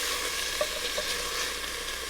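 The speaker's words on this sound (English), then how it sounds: "Get a good sear on it" Beef for a New Orleans beef stew sears in a hot pot: a dense, steady sizzle with faint crackles and light stirring scrapes, close by and with no talk.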